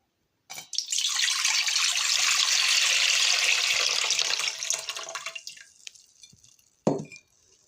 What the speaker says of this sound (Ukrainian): Перець баланшую, залю кипяченою водичкою, накрию кришечкою